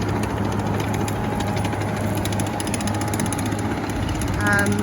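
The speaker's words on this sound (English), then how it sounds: "Brett has rented this little bobcat and is building an extension to the driveways," A small Bobcat skid steer loader engine drones steadily at idle-to-work pace, a constant low rumble with faint rattling, close and continuous throughout, during driveway building.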